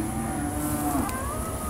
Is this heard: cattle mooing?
yes